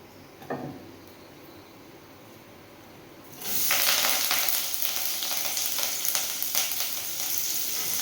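Big onions drop into hot oil with fennel seeds in a pan: after a quiet start, a loud, sustained sizzle and crackle of frying rises and carries on, with no talk.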